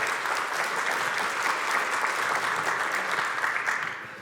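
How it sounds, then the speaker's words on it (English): An audience applauds steadily for several seconds, a dense patter of clapping that fades out at the end. "Let's give them another round of applause."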